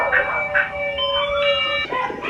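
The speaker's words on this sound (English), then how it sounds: "My siblings went to the ice cream truck" An ice cream truck plays its tinkling, chime-like melody, a few sustained tonal notes at moderate distance, with a voice speaking briefly near the end.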